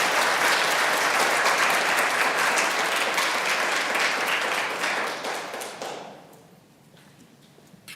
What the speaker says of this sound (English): One more round of applause for this great presentation.